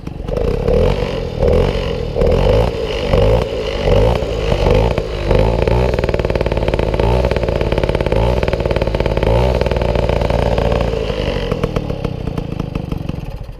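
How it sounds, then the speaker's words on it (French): A Motobécane 50 Custom moped engine idles and revs close by, a loud rattling two-stroke putter that rises and falls steadily with no talking. "on écoute un peu le bruit du moteur"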